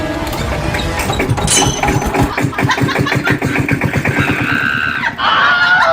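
An old vehicle engine catches after a push start, sputtering into a rapid, uneven chugging that grows steadier, loud and close, with a rattling mechanical clatter and a brief burst of voices near the end.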